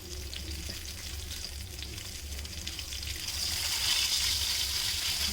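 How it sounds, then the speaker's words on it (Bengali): Hilsa fish head pieces fry in a frying pan of mustard oil, giving a loud, steady, close sizzle that grows slightly stronger toward the end, with no voices. "আমি মাছের দুই মাছেরই মাথার সাইডটা দিয়ে দিলাম ফ্রাই প্যানের মধ্যে"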